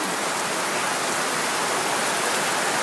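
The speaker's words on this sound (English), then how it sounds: "It's raining very hard here." A hard outdoor downpour during children's seed planting, steady and loud, a thick wash of rain hitting the ground and nearby surfaces that holds an even roar throughout.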